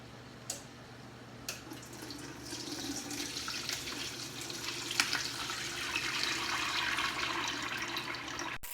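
Liquid drains out of a roasted lemon turkey pan, a steady close pour and splash that swells gradually after a couple of light knocks at the start, with no one speaking.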